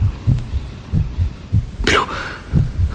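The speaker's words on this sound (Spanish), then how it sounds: "los latidos se oían cada vez más fuertes, más fuertes" A steady, rhythmic heartbeat thumps low and close, one beat roughly every half second, in a radio drama adaptation of Edgar Allan Poe's 'The Tell-Tale Heart', with a brief whooshing swell partway through.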